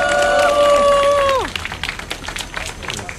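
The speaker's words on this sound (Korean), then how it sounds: "여러분들의 환호와 박수로 시작하겠습니다" A crowd at a Future United Party campaign launch rally for candidate Kim Mi-ae in Haeundae, Busan, before the 2020 National Assembly election: a sustained tone glides downward and fades, then scattered clapping and cheering follow.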